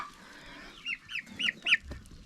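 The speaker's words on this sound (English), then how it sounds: "we have got a couple of young hens" A couple of young hens in a Bulgarian homestead barnyard give four short, separate clucks that grow slightly louder, over quiet background with no talk.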